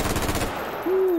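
An M16A1 rifle in the VR game H3VR fires a short full-auto burst of rapid, evenly spaced shots, close and loud, ending abruptly in a brief ringing tone.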